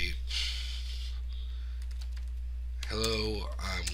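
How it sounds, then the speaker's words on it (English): Brief key presses on a Commodore 64 keyboard, faint and quick, under a steady low hum, followed by someone speaking. "Now if I were to go to 1 and I were to type"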